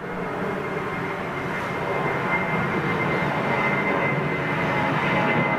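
A Japan Airlines jet at London Heathrow produces a loud, steady engine roar that holds evenly and swells slightly toward the end, with no talk over it.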